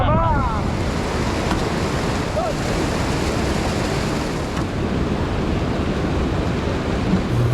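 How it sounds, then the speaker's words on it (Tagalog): Kang Crispin waterfall in Katigbian, Bohol, pours in a steady, loud, broadband rush of falling water that continues without pause, close by, with a wind-like roar. "At ito ang napakatahimik na waterfalls ng Kang Crispin dito sa Katigbian, Bohol"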